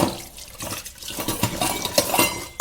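Dishes and cutlery clatter and clink near a running tap while a few household utensils are washed in a home kitchen, with no voices.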